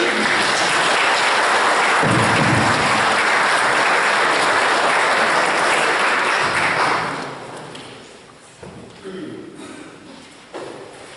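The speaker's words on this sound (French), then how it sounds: "On peut déjà applaudir pour la soutenir." Audience applause at a Saint Nicolas pardon gathering, loud sustained clapping for about seven seconds that then fades out, followed by quieter room sounds and a few scattered claps.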